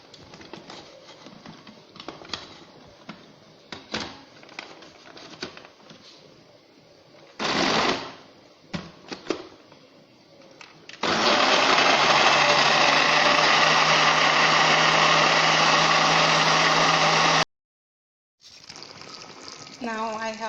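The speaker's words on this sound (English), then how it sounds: "So it's now time to grind my onions, garden eggs, pepper, and the fresh tomatoes." After some clattering and brief bursts, a kitchen blender grinding onions, garden eggs, pepper, tomatoes and water kicks in with a loud, steady whirring roar for several seconds, stops abruptly, then starts again.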